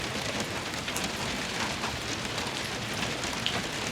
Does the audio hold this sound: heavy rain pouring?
yes